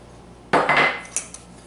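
Melted butter poured into almond flour for gluten-free keto bread, heard as a sudden clattering scrape of utensil against a bowl, then a few lighter knocks, with no talking.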